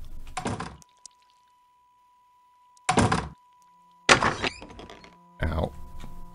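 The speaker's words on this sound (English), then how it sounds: "Just open the door on myself, why don't I?" Heavy wooden door in the haunted-house game Realms of the Haunting, heard as several separate thunking, knocking hits and creaks with silent gaps between them, plus a thin steady tone underneath.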